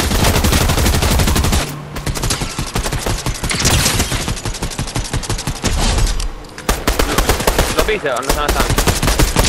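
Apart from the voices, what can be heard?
enemy gunfire in Fortnite video game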